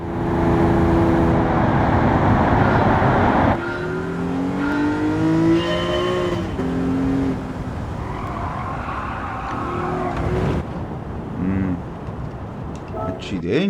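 Cars racing in the video game Gran Turismo 7, engines revving with rising and falling whines as gears shift, loud at first then quieter, with people talking over it.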